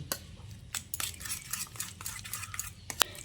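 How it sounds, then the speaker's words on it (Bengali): Spoon mixing ground spices into raw egg and boiled potato in a bowl, with a run of soft scraping and clinking strokes, a sharper clink near the end, alone and fairly quiet. "গুঁড়ো মশলাটা দিয়ে আগে আমি সব কিছুকে একসঙ্গে ভালো করে মিশিয়ে নিচ্ছি"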